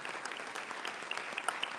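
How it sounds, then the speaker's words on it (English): Steady applause from an audience at a Hispanic chamber awards ceremony, dense even clapping that keeps going without a break at moderate loudness. "I want people to give them a round of applause"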